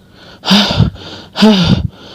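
Two loud, heavy breaths in quick succession, a voice huffing and gasping as if out of breath, close to the listener.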